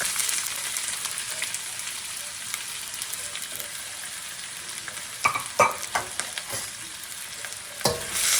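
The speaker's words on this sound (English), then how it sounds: "Once the oil is hot, put the onion and the bottom of green onion together in the wok." Onion and the white ends of green onion stir-fried in hot oil in a wok: a steady hiss of frying builds up and is followed by a few sharp spatula scrapes and clatters near the end, close by.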